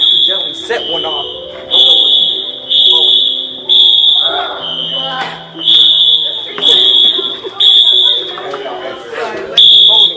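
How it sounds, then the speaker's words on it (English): A school fire alarm blares in a repeating pattern of loud, shrill buzzing pulses, roughly one per second, while people talk throughout. "Right now you can hear the school fire alarm."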